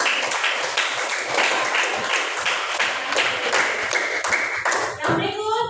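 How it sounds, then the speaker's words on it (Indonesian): A classroom group claps together in dense, steady applause that carries on for several seconds close by, ending as a voice begins to speak. "kita memberikan tepuk tangan untuk Maria dan Putra."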